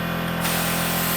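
A red-latched Black Widow air-powered motorcycle lift releasing and lowering, a steady broadband hiss of escaping air over a low continuous hum, starting softer and then rising to a full rush that holds.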